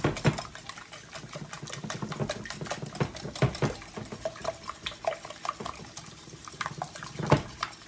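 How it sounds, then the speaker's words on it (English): Eggs being whisked in a bowl for a keto crustless quiche with salt, a steady run of quick clinking, splashing strokes close by with no talking. "I'm gonna whisk these eggs till they're all combined"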